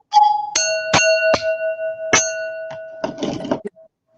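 An electronic doorbell plays a chiming ding-dong tune of several clear bright tones, loud and close, fading out at the end with no talk.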